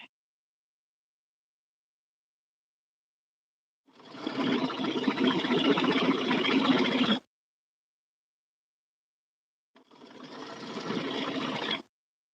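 A sewing machine runs in two bursts, about three seconds and then two seconds long, with a steady mechanical whir separated by silence.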